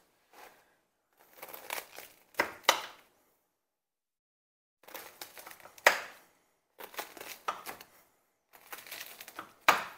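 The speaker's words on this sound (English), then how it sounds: "I'm gonna slice up this bread." A knife slices through a loaf of bread in a kitchen, giving several separate bursts of crisp, crackly sawing strokes with silent pauses between them, close and fairly quiet.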